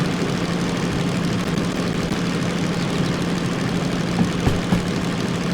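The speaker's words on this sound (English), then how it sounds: "I can hear now the diesel engines increasing." Diesel locomotive engines in the Derail Valley train simulator, double-headed with a steam engine hauling a 500+ ton train, throb with a steady low droning roar that holds constant and loud throughout, no voices.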